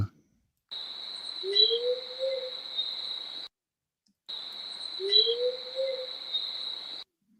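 Noise-reduced recording of a believed Bigfoot whoop in North Carolina woods, heard twice: each a rising, hollow whoop call over a steady, shrill insect-like drone, separated by a brief silence, faint and distant.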